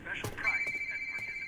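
A phone rings in a video game, a bright electronic trill holding a steady tone for about a second alongside a burst of talk.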